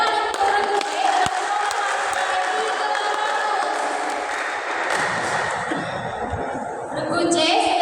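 An audience at a youth quiz competition in Sintang claps and cheers for the competing teams, with lively applause and chuckles rising and falling under continuous talk in a busy, echoing hall.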